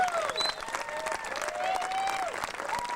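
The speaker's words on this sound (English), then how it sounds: "A round of applause for our top 5 male riders at the Grundig UCI World Cup" A crowd applauds the top five male riders at a Grundig UCI World Cup downhill mountain bike event, steady clapping filling the space with whistles and shouts rising over it.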